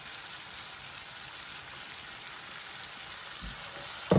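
Onion and garlic frying in a pan, a steady soft sizzle with fine crackle held evenly throughout, close and moderately quiet, with a brief louder clatter at the very end.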